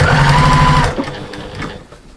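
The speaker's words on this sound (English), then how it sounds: "We're also stitching the lining" A sewing machine stitches down the fabric lining of an armchair sewing caddy, a loud close whirring run of rapid stitches lasting under a second before it stops, leaving faint handling noises.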